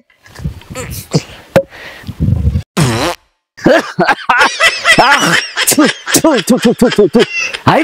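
A loud fart among a group of people, short and close, surrounded by lively talking and laughter.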